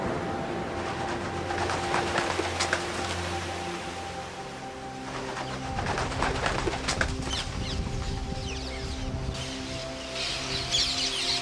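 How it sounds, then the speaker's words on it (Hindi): Birds taking flight with rapid bursts of flapping wings in open sky, several rushes of wingbeats over a steady low tonal drone and a constant airy background. "पक्षी पृथ्वी के ऊपर आकाश के अंतर में उड़े।"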